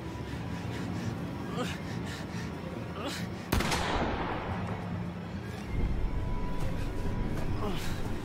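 A single sharp gunshot in the horror game The Quarry cracks out midway through a tense scene, heard under shouting voices and a low rumbling ambience.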